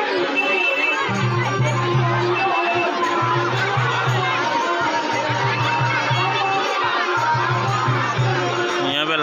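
Dense chatter from a large crowd at a busy fair, with a steady babble of many voices and a recurring low droning hum underneath.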